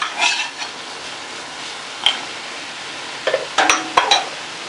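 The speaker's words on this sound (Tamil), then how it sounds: "கருவேப்பிலை இது எல்லாத்தையும் போட்டு நல்லா மிக்ஸ் பண்ணி கொஞ்சம் நல்லா இதை வதங்கட்டும்" Cabbage, peas and curry leaves are stirred and sautéed in a pan, with a few sharp scrapes and clinks of a spoon against the metal rising over a faint, steady sizzle.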